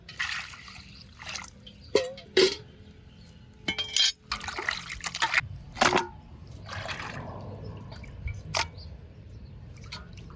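Raw chicken pieces being washed in water in a pot, giving splashing, sloshing and dripping with intermittent pours and a few sharp clinks of the pieces and pot, close by, with no talking.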